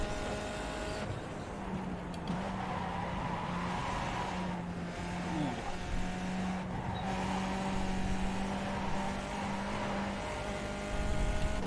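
A race car engine drones steadily as it laps the Belle Isle street circuit in iRacing, with pitch shifts through corners and a few brief tire-slide moments, loud and close, no talk.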